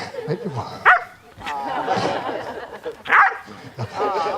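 A gun dog barks and yips a few times close by, mixed in with people talking over it.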